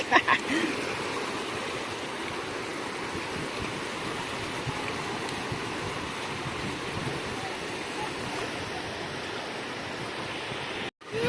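Sea water at a beach where people are surfing, a continuous wash of waves and surf with wind noise, a few bumps at the start and a brief dropout near the end, voices briefly mixed in early.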